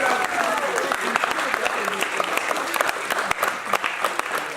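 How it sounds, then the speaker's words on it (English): Studio audience applauding contestants at a Survivor reunion show, dense steady clapping with some cheering throughout, loud and close. "Let's give a round of applause against the contestants."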